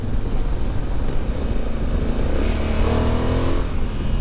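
Honda Africa Twin Adventure Sports DCT motorcycle engine revs in a steady loud drone, its pitch climbing toward the end as the bike accelerates, with wind roar underneath.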